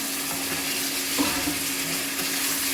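Egg dropped into a hot pan and stirred, with a constant close sizzle and a soft clink of the spatula midway, no talking.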